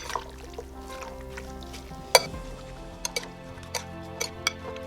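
A spoon knocking and scraping in a pot as chopped onion is stirred in hot oil, with soft frying underneath and a few sharp taps close by.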